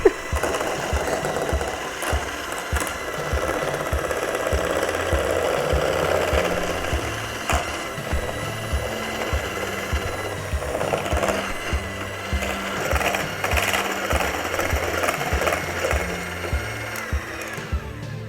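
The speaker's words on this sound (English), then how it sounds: "you're going to whip it for about 10 minutes or more till it gets super creamy, like a whipped cream, and like fluffy" A hand mixer whips homemade body butter in a bowl with a continuous whirring drone and rhythmic clattering of the beaters, steady and close throughout.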